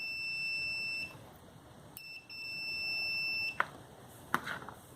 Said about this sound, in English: And we go to continuity, which will have the audible.